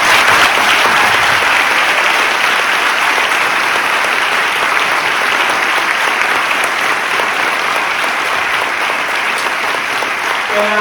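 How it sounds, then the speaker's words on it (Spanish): Loud, sustained applause from a festival audience at a role-playing panel, dense steady clapping filling the whole stretch without letup and no voices standing out. "¡Un aplauso,"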